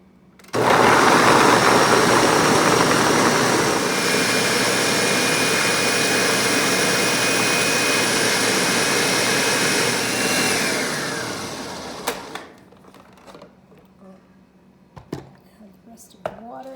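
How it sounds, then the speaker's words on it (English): A blender loudly whirs through a batch of water for about eleven seconds, its steady motor roar filling the space before winding down, followed by scattered clinks and handling noises. "Into the blender it goes."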